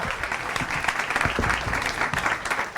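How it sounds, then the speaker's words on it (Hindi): A studio audience at a comedy talent show breaks into applause, a steady clatter of many hands clapping at close range for a few seconds. "तालियां हो जाए"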